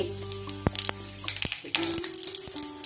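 Bay leaf, mace, small cardamom pods, cloves and a cinnamon stick sizzle loudly in hot oil as tempering for katla fish kaliya, with crackling pops and bursts over a steady frying hiss.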